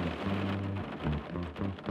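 Steady, dense rain pours down during a day of torrential downpour on soaked ground, a continuous close hiss with low rumbling underneath and no speech.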